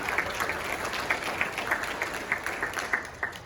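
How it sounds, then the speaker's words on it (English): A crowd at a judge's investiture ceremony claps steadily for a few seconds, dense applause with a few sharper individual claps standing out. "we thank you and applaud you, Judge Russell"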